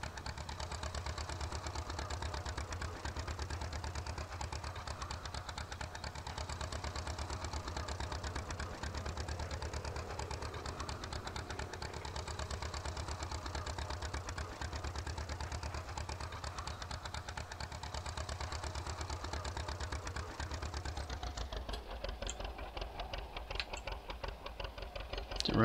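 A tractor engine idles in the video game Farming Simulator 15, a steady rapid mechanical chugging at moderate level that continues unbroken and shifts slightly near the end.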